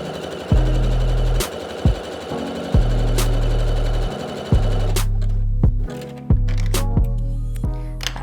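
A sewing machine runs a stretch stitch along a sleeve seam, with loud, close mechanical whirring in several bursts separated by brief pauses and sharp clicks.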